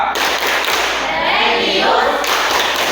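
Loud, dense rhythmic clapping by a class fills the whole stretch with a steady run of sharp hand claps over a broad wash of noise.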